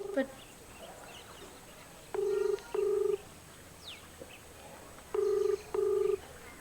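A phone ringback tone sounds twice in paired bursts, thin and slightly distant like a speakerphone, with quiet background noise between.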